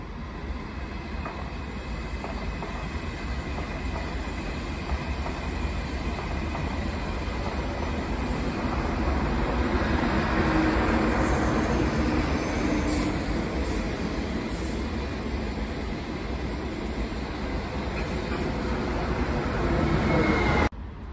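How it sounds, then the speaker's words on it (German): An S-Bahn S1 train in Vienna arriving at a platform at Matzleinsdorfer Platz, a steady loud rumble of wheels and motors that builds slightly toward the end, with faint station sounds and a possible announcement voice in the background. "S1 nach Gänserndorf über die Mitte fährt ein."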